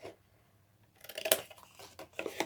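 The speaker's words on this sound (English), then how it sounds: "We're going to cut away all that whole one there." Scissors snipping through paper for a Stampin' Up! gift box: after a quiet stretch, a handful of close, crisp cuts cluster in the second half, faint and alone.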